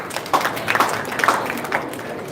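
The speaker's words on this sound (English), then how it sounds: "Give her a big clap." An audience at a science celebration event claps together, a moderate, slightly distant patter of hands running steadily for a couple of seconds.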